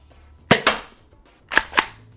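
Toy dart blaster firing lightweight Worker Gen 3 foam darts, four sharp snappy pops in two quick pairs, close and clear with no talking.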